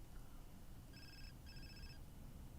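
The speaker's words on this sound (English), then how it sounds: "I meant to answer my phone." A phone rings in The Sims 4, two short electronic bursts in quick succession over a low steady background, with no talking.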